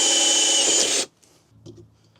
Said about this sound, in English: Now we are ready to drill.